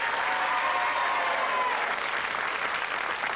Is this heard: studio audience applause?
yes